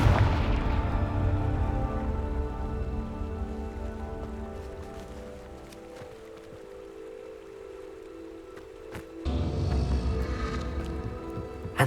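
Confringo blasting-spell explosions in the Hogwarts Legacy video game, with heavy rumbling booms and crackling debris, a sustained roar easing off midway and then a fresh loud blast near the end.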